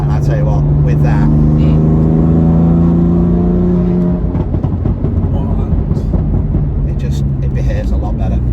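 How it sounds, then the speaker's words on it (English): A 600 bhp BMW M4 with a GTS gearbox flash revs hard, its engine rising in pitch and then dropping back to a rough, loud rumble, up close, with speech heard over it. "it puts a smile on my face the minute I start it up"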